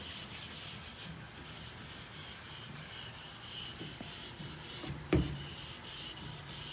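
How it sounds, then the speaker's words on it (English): Fine 4/0 steel wool rubs lightly over varnished wood in a soft, continuous scratchy hiss, faint and close, ending with a single brief knock. "This is the 4/0 steel wool, and I'm just going to lightly sand it."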